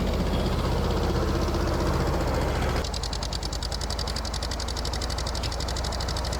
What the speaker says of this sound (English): I'm gonna just jump on the Bobcat and just throw it back in the yard.